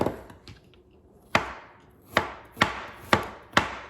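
A knife chops whole ginger into small pieces on a board, five sharp close chops with short ringing decays, falling at an irregular pace after a few softer taps.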